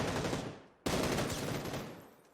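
Rapid gunfire in a PUBG esports match, a fading volley cut by a sudden loud burst that then tails off, with no talk.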